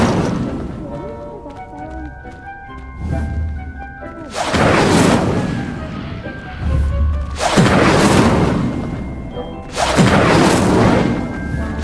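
Incendio fire spell blasts cast in Hogwarts Legacy: three loud, roaring bursts of flame a few seconds apart, each swelling and fading, over soft background music.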